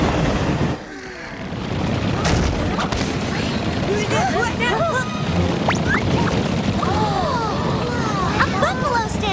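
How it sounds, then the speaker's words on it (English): A dense, rumbling roar of many buffalo hooves pounding in a stampede, thick and continuous, with shouts and whoops rising over the din. "A buffalo stampede!"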